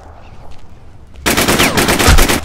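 Automatic gunfire from an RPK machine gun in the shooter game War Inc Battlezone erupts after a quiet start, a loud, dense burst of rapid shots that keeps hammering to the end.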